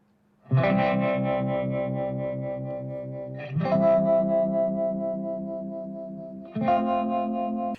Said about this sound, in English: And then the last electric with some trem.